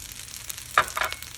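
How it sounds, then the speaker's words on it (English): Fried rice sizzling in a hot wok: a soft, steady frying hiss with a couple of brief, brighter bursts as the rice is stirred. Short and fairly quiet, with no voices. "You still hear the sizzle."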